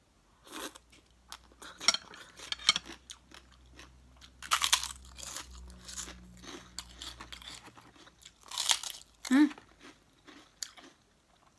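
Crispy rice crackers eaten with spicy papaya salad and rice noodles, giving close, repeated crunching bites and chewing in an irregular rhythm, with a voice heard faintly now and then.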